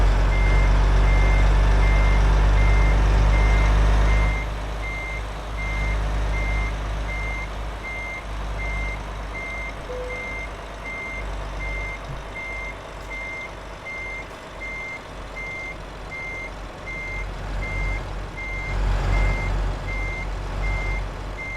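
Truck reversing beeper in Euro Truck Simulator 2 sounds a steady, evenly spaced series of beeps while the rig backs into a parking spot, over a low engine rumble that eases after a loud opening stretch.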